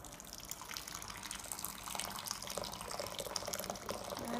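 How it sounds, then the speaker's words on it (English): Hot water poured from a height into a bowl for matcha tea makes a soft, continuous splashing trickle, quiet and close, with no talking. "I pour the water. I'll pour it from a greater height so that it does cool down"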